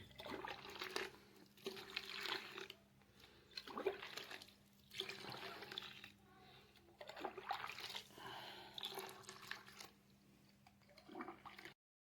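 Water pours in repeated bursts into a soap-making mixture for white oil foaming agent, faint and close, with pauses between pours and no talking.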